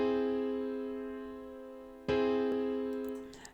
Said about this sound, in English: So I'm going to put 4 notes all together and it sounds like this.